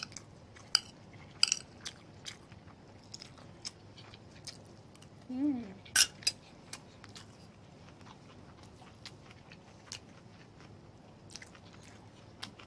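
Cutlery mixes ginger beef and rice on a plate during an eating session. Scattered sharp, close clinks and scrapes are spread over quiet pauses, with a brief louder scrape in the middle.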